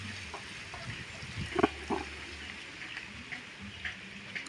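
Water poured onto garden plants, a soft trickling and splashing with a few brief louder splashes, faint and close, in a quiet outdoor setting.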